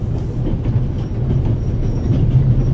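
Moving train ambience from the video game The Raven Remastered: a steady, loud low rumble of rolling carriages with faint rhythmic wheel clatter, continuous throughout with no talk.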